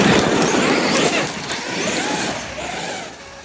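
Traxxas X-Maxx RC truck driving outdoors, its electric motor whining and rising and falling in pitch along with broad rushing noise from the truck moving, steady and fairly loud throughout.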